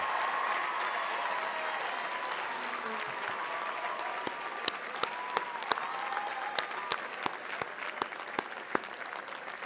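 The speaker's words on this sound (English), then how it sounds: "I want you to join me in a round of applause for all of your friends and family members who've done so much to help you get here." Sustained round of applause from a large crowd at a university commencement ceremony, steady dense clapping throughout with a few sharper individual claps standing out near the end.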